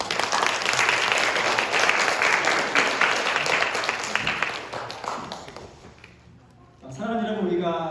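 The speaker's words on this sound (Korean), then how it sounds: "박수 한번 좀 주겠습니다" A church congregation applauds loudly during a Sunday service, the clapping fading out gradually before a voice begins speaking.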